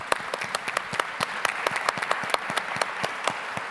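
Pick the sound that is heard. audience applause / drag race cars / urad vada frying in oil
audience applause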